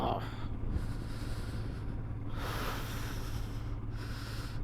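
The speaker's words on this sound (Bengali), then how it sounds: "প্রচণ্ড পরিমাণে হাওয়া দিচ্ছে, প্রচুর হাওয়া দিচ্ছে রে বাবা" Strong wind sweeps a mountain road near Nathula Pass in Sikkim during a motorbike trip, a loud continuous roar buffeting the microphone with gusts swelling and easing throughout.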